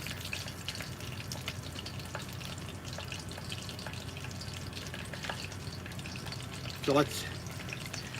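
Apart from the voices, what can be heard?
frying chicken drumsticks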